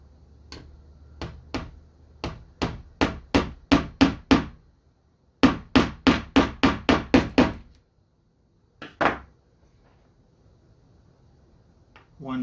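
A small nail tapped with a hammer into a pre-drilled hole, held against a jig with angled pliers: two quick runs of sharp, close, evenly spaced knocks, then a pair of isolated taps after a pause.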